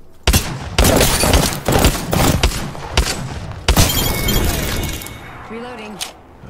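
Gunfire in the video game Apex Legends: loud, close bursts of rapid shots with sharp cracks and shattering impacts in quick succession, tapering off, followed by a short voice near the end.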